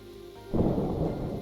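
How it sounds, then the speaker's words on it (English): Minecraft thunderstorm: a soft rainy hiss suddenly swells into a loud, rumbling thunder roll layered with heavy rain on surfaces, close and enveloping, with no voices. "The thunder maybe is a little bit crazy."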